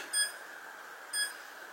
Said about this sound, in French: Vous voyez ce que je vous disais, le petit bip.